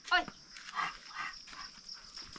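A dog in a family home gives a short sharp bark near the start, followed by faint whimpering noises while people talk in the background.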